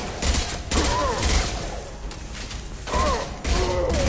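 Gunfire rattles through a firefight in Mass Effect Legendary Edition. Heavy, continuous volleys of shots and impacts swell and ease in several loud waves, with no talking over them.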